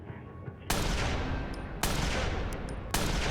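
Three loud sniper rifle shots in the video game Watch Dogs, each a sharp blast with a long, broad decaying tail, evenly spaced about a second apart after a quiet opening.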